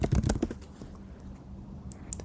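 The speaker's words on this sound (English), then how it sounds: "You can also press Shift Enter on your keyboard and then type the word that you want to search" Keys are tapped on a computer keyboard in a quick cluster of several clicks, then a quiet pause and two brief, lighter taps near the end.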